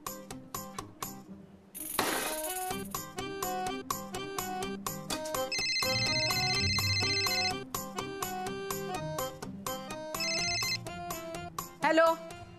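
A telephone ringtone sounds in a Marathi TV serial scene, its bright repeating tones arriving in two separate bursts over continuous background music.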